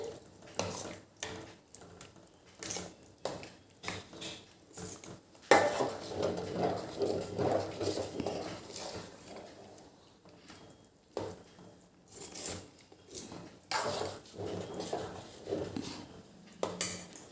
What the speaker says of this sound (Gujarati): હવે આ બધું એક વખત આપણે એને હલાવી કાઢવાનું છે